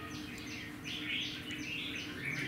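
A caged red-whiskered bulbul of Lao stock sings bright, repeated chirping phrases in a steady rhythm over a constant noisy background hum.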